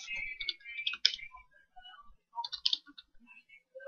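Keys on a computer keyboard are pressed for a Control Shift Enter shortcut in Excel, making sparse, light plastic clicks in short bursts with quiet gaps between them.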